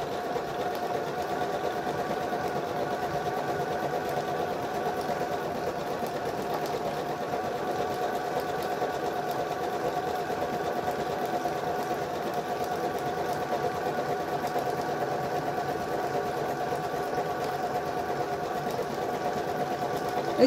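Sewing machine running steadily while stitching a table topper, a continuous close mechanical whir with an even rapid stitching rhythm and no pauses.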